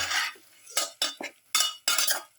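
A utensil scraping and clinking against a pot while stirring a pepper garlic beef stew mixture; several short, distinct strokes with brief pauses, close and moderately loud, no talking.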